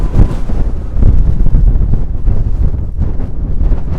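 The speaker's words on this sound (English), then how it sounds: "That wind really has picked up on the top here." Strong wind buffets the microphone on the exposed peat-covered top of Black Hill, a steady low roaring rush that fills the whole stretch with no talking.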